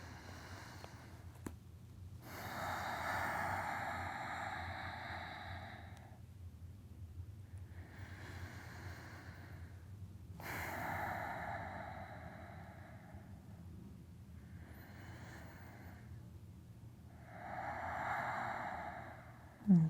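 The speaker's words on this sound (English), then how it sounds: "and then breathe here" Slow, deep breaths during a yoga forward fold, close and soft, with several long airy inhale and exhale cycles spaced evenly over a quiet room.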